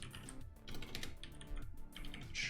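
Keys clatter on a computer keyboard in a quick, irregular run of close taps, moderately loud with no talk over them.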